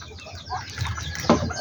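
Bantam chickens clucking in a Filipino backyard flock kept alongside ducks, soft and close, with a few low clucks and one sharper call near the end.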